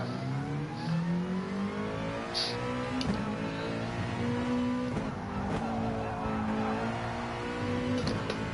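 A race car in the Gran Turismo Sport video game revs hard at the Saint Croix circuit, its engine tone rising and falling steadily, with brief tire squeal and skidding as the car spins out on dirty tyres.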